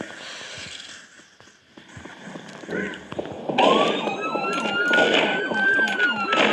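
A police siren wails and rises in pitch, growing louder partway through over a busy background of crackles and pops.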